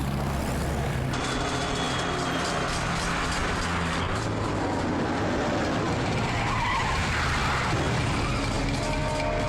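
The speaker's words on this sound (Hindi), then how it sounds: "कोई गाड़ी हमारा पीछा कर रही है शायद।" Cars skid and roar through a chase scene in a South Indian action movie dubbed in Hindi, with loud continuous tire squeal and engine noise filling the whole stretch, no talking.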